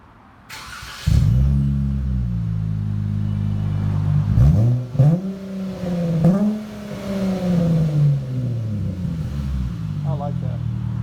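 A 2019 Dodge Challenger 3.6L V6 with muffler delete dual exhaust barks to life, settles into a loud idle, then gets several sharp revs that rise and fall, close by, with brief voices near the end.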